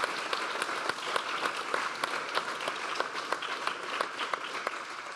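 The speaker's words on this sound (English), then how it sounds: "I want to give a round of applause to our speakers" Audience applause for the speakers of a quantum processor panel at a forum, a steady wash of many hands clapping at moderate loudness throughout, with no talking over it.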